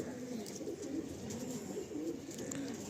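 Madrasi pigeons, tournament-quality flying birds, cooing in low repeated rolling calls over a steady background hum.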